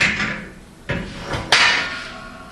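Treadle hammer with a spring fuller striking metal in a blacksmith setting, three sharp metallic blows, the first and last loudest, each followed by a ringing decay, with no talking.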